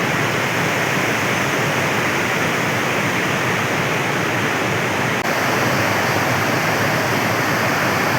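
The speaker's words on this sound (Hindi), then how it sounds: "देखा कि बाईपास से इन्होंने पूरा पानी खोल रखा है और ज़बरदस्त स्पीड से पानी निकल रहा है।" Water from a canal bypass, opened fully, gushes out at high speed in a loud, steady, broadband roar that runs unbroken and close throughout.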